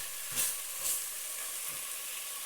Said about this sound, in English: I brown my sausage on medium-high heat until it's browned all the way through.